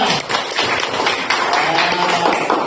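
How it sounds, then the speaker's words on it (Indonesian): Schoolchildren in a classroom clap together, a loud, close burst of many small hands with an uneven rhythm that carries on for a couple of seconds, with a little voice mixed in. "tepuk tangan untuk kalian semua"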